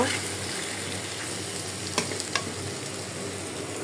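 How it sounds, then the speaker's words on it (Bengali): Chopped bottle gourd tumbled into a frying pan with dried fish and eggplant, a steady close sizzle and hiss with a couple of sharper stirring clinks partway through, no voices. "আমি এখন আস্তে আস্তে লাউ দিয়ে দিলাম"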